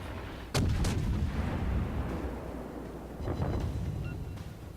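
Battleship guns firing high explosive shells in World of Warships, a loud booming salvo followed by a rolling rumble, then a second softer volley of blasts amid continuous low game noise.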